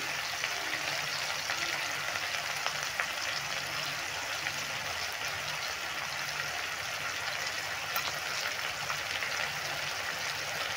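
Tomatoes frying in a pan with salt give off a steady, even sizzle like light rain, continuous and fairly close, with no voices over it.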